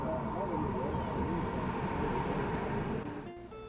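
A steady rumble from inside a short train ride to Vernazza in Italy's Cinque Terre. It holds at a constant level, then eases slightly near the end, with a faint tonal whine at that point.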